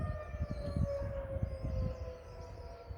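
Tornado warning sirens, mostly Federal Signal models, wail across the city of Jackson, Tennessee, as a steady, sustained tone carried from a distance over a low outdoor rumble.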